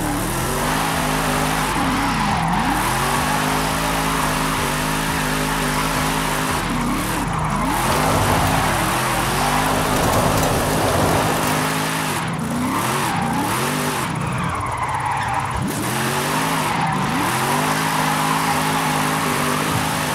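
Car drifting in Forza Horizon 5 at a Donut Media Formula Drift zone, engine revving and wailing through repeated rising and falling pitch sweeps, with tire squeal and skidding running steadily throughout at close range.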